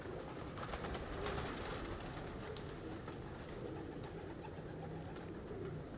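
Pigeons kept by a breeder coo softly in short repeated calls, faint and somewhat distant against a low steady background hum.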